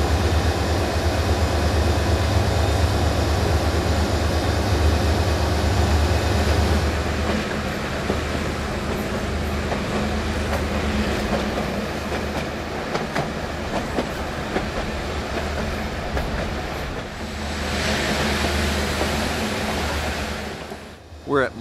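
A White Pass & Yukon train rolls along the rails with a loud, steady rumble and rhythmic clickety-clack of the wheels, continuous throughout and easing slightly in intensity toward the end.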